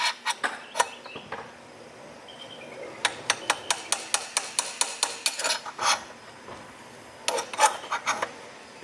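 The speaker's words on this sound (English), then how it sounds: "let's use the punch and a little hammer and catch the lip on this bottom race" A small hammer taps a punch against the lip of a bearing race on a 1970 K1 Honda Z50 mini trail bike. Sharp metallic strikes land in quick rhythmic bursts with short pauses between them, close and clear.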